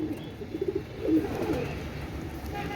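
A Pakistani pigeon with bears-style eyes coos softly nearby, a few low throaty pulses followed by a longer rolling coo, faint and with no speech.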